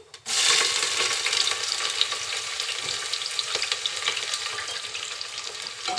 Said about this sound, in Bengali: এখন রান্নার তেল দিয়ে দিলাম পরিমাণ মতন তেলের ভিতরে দিয়ে দিচ্ছি দুটি তেজপাতা আর কিছু গোটা গরম মশলা আরও দিচ্ছে পেঁয়াজ কুচি